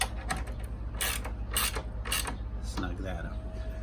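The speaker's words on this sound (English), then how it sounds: "There's the 2 bolts, so we're going to put these in." Bolts being tightened on a Stern Munsters pinball machine during setup, heard as a rapid series of ratcheting clicks and metallic scraping bursts over a steady low mechanical hum, ending with a faint tonal whine.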